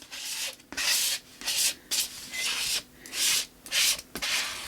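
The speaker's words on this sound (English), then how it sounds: "And what I did was I continued to scrape through it." A palette knife scraping through paint on collage paper in repeated rasping strokes, about eight in all, close and fairly loud, alone without talk.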